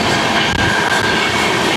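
Humsafar Express sleeper train rumbling along the rails, a loud, steady wash of wheel and carriage noise with a faint squeal running through it, close and continuous with no talking.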